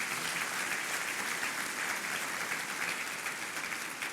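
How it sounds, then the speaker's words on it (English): Steady applause from an audience at a business luncheon, an even wash of clapping that holds at the same level throughout, heard from a distance with no voices over it. "Let's give yourselves a round of applause."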